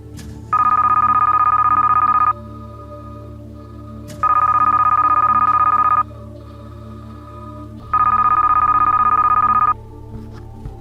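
A telephone rings three times in a steady pattern, each loud electronic trill lasting about two seconds with pauses between, over a low background hum.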